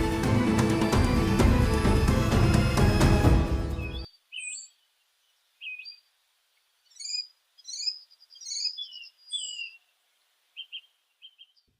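Several birds chirp and call in short separate bursts in a quiet morning setting, heard alone after a loud, dense passage of music cuts off abruptly.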